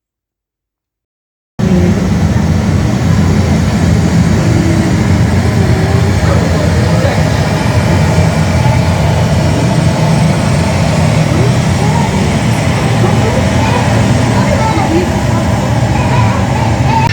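A model airplane takes off at the Miniatur Wunderland miniature airport. After a moment of silence, a loud, steady jet-like roar begins and holds throughout.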